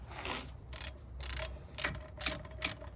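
Bolt being hand-threaded into the thermostat housing on a Jeep Wrangler JK 3.6 V6 engine, giving close, quiet metallic clicks and short ratchet-like scrapes in uneven bursts over a steady low hum.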